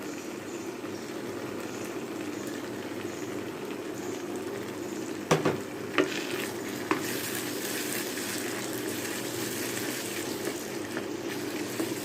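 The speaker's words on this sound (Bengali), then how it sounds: "সবগুলো মশলা খুব ভালো করে একসাথে ভালো করে কষিয়ে নেব" Spice masala with whipped sour yogurt sautéing in a pan for an Eid-style chicken roast, a steady close sizzle and bubbling throughout, with a few sharp clinks of a spoon stirring around the middle.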